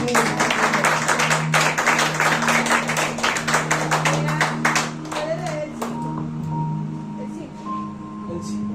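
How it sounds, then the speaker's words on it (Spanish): A church congregation applauds during a Spanish-language sermon: dense, sharp handclaps for about five seconds, then thinning out and fading into quieter room noise with a faint hum. "Dale fuerte aplauso a la palabra de Dios."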